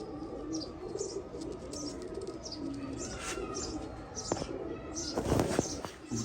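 Teddy high-flyer pigeons coo in a low, steady rolling murmur throughout, with sharper chirps and light flutters layered above, close by and without talk.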